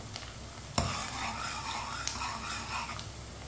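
Onions browning in a pan for sarson ka saag: a steady sizzle with scraping stirs, one sharp utensil clack near the start and a lighter tap later, close and even throughout.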